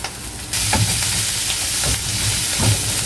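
Mixed vegetables drop into a frying pan and burst into a loud, steady sizzle nearby, with a few stirring scrapes and knocks as they cook for a creamy egg dish.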